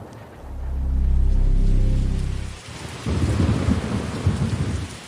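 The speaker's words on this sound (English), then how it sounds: "A terrible hurricane is brewing." A dramatic hurricane thunderstorm effect opens with a long, deep rolling thunder rumble that swells and fades. Steady heavy rain pours alone after it, with no voices.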